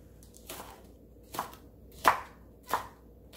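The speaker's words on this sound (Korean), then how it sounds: "파는 흰 부분만 송송송송 썰어줍니다" A knife slices the white part of a green onion on a cutting board: five crisp, separate chops at uneven intervals, close and clear, with no talking.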